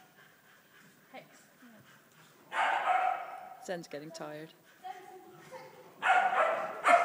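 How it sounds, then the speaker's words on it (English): A dog barks during agility training, giving several sharp, close barks in short bursts with yips in between, while a person speaks softly nearby. "She's done a whole lot of barking though."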